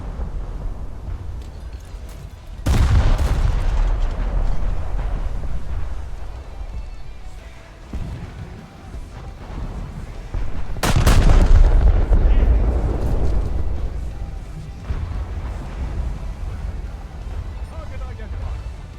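Battleship guns firing in a naval combat video game, two heavy booming salvos several seconds apart, each a deep roaring blast that rumbles out slowly, with talk running alongside.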